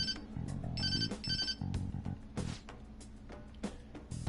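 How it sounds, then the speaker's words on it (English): A phone rings in the video game Persona 5 Royal, with a bright, repeating electronic ringtone in short bursts over a low game background, fairly close and clear. "Call Sojiro's phone"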